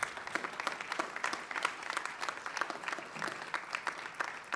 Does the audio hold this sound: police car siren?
no